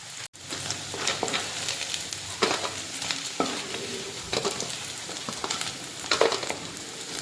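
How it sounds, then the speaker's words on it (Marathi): Paneer pieces fry in hot oil, giving a continuous close crackling sizzle with spattering bursts and a few stirring scrapes, moderately loud and without speech. "पनीरचे तुकडे तेलात घातलेले आहेत आणि त्यांना छान असे फ्राय करून घ्यायचे"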